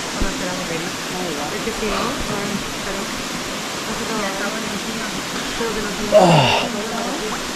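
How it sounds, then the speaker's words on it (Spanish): Water rushes steadily through a sluice gate that regulates flow in a community irrigation channel in Murcia, a constant broadband roar close by, with people talking over it and a brief louder burst of voices near the end. "Esta compuerta es para regular el caudal del agua."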